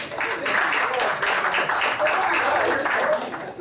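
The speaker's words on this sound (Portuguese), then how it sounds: "Uma salva de palmas, né?" Members at a Rotary Club meeting give a round of applause for a birthday: a close, steady patter of many hands clapping for a few seconds, with some voices mixed in.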